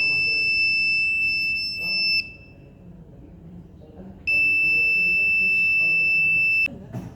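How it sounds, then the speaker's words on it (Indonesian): A loud, steady electronic buzzer tone from an IoT temperature and humidity monitoring system sounds for about two seconds, stops, then returns for another couple of seconds, with faint background noise between. "sistem mengirim sinyal digital ke buzzer untuk berbunyi selama durasi 3 detik"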